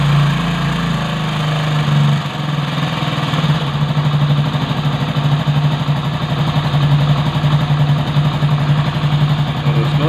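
A motorcycle engine idles close by after its idle screw has been adjusted. The low, even rumble stays loud and steady throughout with no revving.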